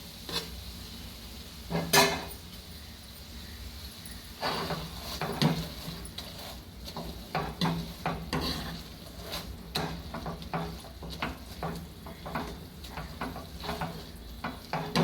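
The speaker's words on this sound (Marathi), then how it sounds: "आता आपण थोडंसं त्याला मॅश करून घ्यायचं" Cooked pav bhaji vegetables mashed in a pan for restaurant-style masala pav, a run of repeated thuds and metallic scrapes, irregular at first and then quicker and steadier, over a soft sizzling bed.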